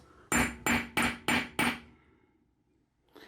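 Five sharp, evenly spaced hammer blows strike a metal stamp held against a Viking Age style silver armring on an anvil, each a bright ringing clank that decays quickly, then quiet with a faint knock at the end.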